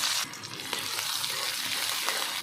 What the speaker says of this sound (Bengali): দিয়ে সবগুলোকে একটু ভালো করে ভেজে নেব